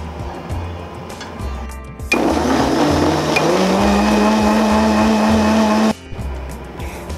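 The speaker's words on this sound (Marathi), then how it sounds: "हा मसाला थोडा वेळ तुम्हाला थंड करून घ्यायचा आहे आणि मिक्सर मधून ग्राइंड करून घ्यायचा आहे" A mixer grinder grinds fried red masala for Kolhapuri misal, a loud steady motor whir with a rising hum that starts abruptly, runs about four seconds, then cuts off, with quieter kitchen background before and after.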